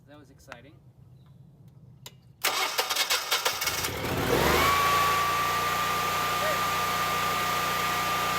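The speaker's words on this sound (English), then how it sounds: "When the engine starts, release the switch to the run position." Generac 17,500-watt portable generator cranking with a starter whir, catching after about two seconds, then running at a loud, steady hum with a rising whine; quiet handling noises come before it.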